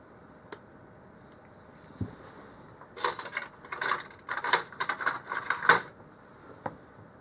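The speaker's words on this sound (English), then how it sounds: "I'm going to try and insert the brushes." Motor brushes being inserted into a Lidl Parkside X20V cordless grinder, PWSA 20-li B2, a cluster of small plastic and metal clicks and rattles, close and fairly quiet, with a few isolated taps before and after.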